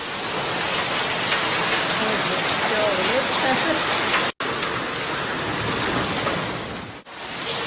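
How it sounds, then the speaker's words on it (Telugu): Heavy, continuous rain falls in Delhi, a loud steady hiss of downpour that fills the whole stretch, broken only by two brief cuts. "ఢిల్లీ దాని చుట్టుపక్కల ప్రాంతాల్లో ఉదయం నుంచి ఎడతెరిపి లేకుండా వర్షం కురుస్తోంది"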